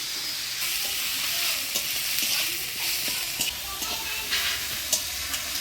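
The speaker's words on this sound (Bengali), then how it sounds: "শাকে ফোড়ন দিব শুকনো লঙ্কা কালজিরা জিরা শাক দিয়ে দিল একটু লবণ" Radish greens hiss and sizzle steadily in a hot pan with dry chili, nigella seeds and cumin, punctuated by scraping stirs and a few sharp crackles.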